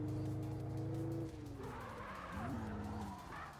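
An HKS-liveried Toyota Altezza drift car, a D1 replica, skidding through a corner, with a strained engine note and tire squeal that shifts pitch as the car slides, loud and close.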